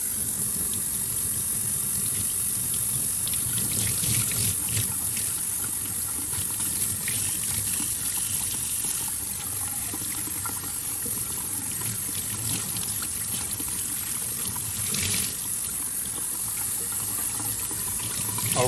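Water running steadily over a filter being rinsed, a continuous close rushing stream that holds an even level throughout with no talk.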